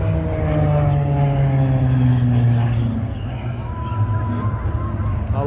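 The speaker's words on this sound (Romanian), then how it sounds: "Vă las pe dumneavoastră să vă uitați la acest avion de acrobatii." A propeller aerobatic airplane performs at the BIAS 2024 international air show in Bucharest, its engine drone loud and steady with a shifting pitch as it passes, with crowd noise and talk underneath.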